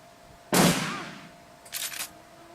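Gunfire in Shadowrun Returns: a single sharp, loud shot rings out with a short decaying tail, followed about a second later by a quicker, softer pair of bursts.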